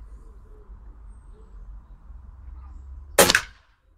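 An airgun fires a single H&N Chrome Magnum pellet into a stack of aluminium sheets weighted with bricks: one sharp, loud crack near the end, after a stretch of quiet background hum.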